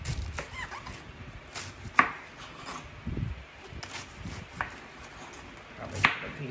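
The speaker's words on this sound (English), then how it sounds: "I find chopping therapeutic, so that's how I'm going to be doing it." A knife chops red cabbage on a cutting board in scattered strokes, a few sharper thuds standing out, close by with faint background rustle.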